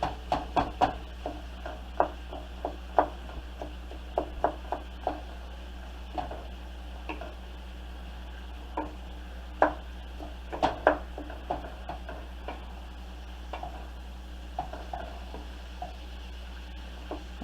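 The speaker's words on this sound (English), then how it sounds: "Just chopping up my ground beef." Ground beef being chopped up and stirred in a sizzling pan for baked spaghetti, with a steady low fry under irregular sharp taps and scrapes of the utensil against the pan, close and clear, no talk.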